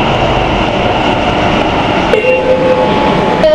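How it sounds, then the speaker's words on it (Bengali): Kolkata Metro Green Line train pulling into Sealdah station, a loud, close rumble joined by a sharp, sustained brake squeal in the last second and a half. "মেট্রো আমাদের ঢুকে গেছে এখানে"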